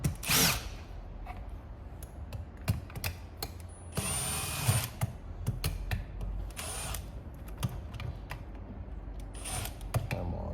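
Power drill working screws loose on a Titan Wagner paint sprayer housing, several brief whirring bursts with clicks and handling noises between them, close up, and one short spoken remark.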